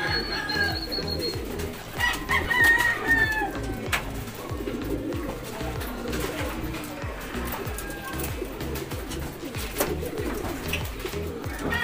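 Racing pigeons back from a training flight coo steadily around their loft, a soft, continuous murmur with voices talking over it.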